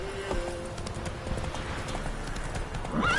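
In The Witcher 3, the horse Roach trots with rhythmic clip-clop hoofbeats throughout, ending in a close, clear neigh, with a faint voice in the background.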